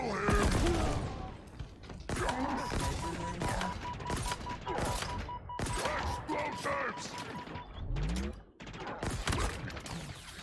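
Rapid bursts of gunfire from the video game Halo Infinite in co-op multiplayer, steady volleys with mechanical clatter, fairly quiet and continuous across the clip.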